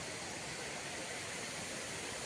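Steady broadband rush of water flowing down a hillside stream above the Aanachadikuthu waterfall near Thodupuzza, an even continuous wash with no breaks.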